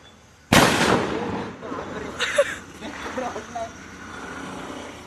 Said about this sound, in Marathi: लागलेला आहे सुतळी बॉम्ब, बघू कसा वाजतोय